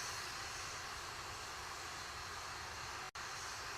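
Atlas V rocket engine roaring during ascent, a dense, loud, steady broadband rumble that fills the whole clip with no voices, cut by a brief dropout near the end.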